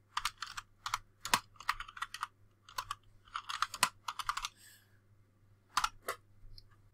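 Rapid bursts of keystrokes on a computer keyboard while a command is entered into the Windows command prompt, close and crisp, with short pauses between clusters of clicks and no talking.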